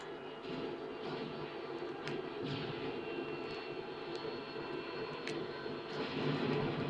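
A Harrier jet roars in the Call of Duty Modern Warfare 2 online game, a steady, broad engine rumble throughout, with a few faint sharp game effects over it.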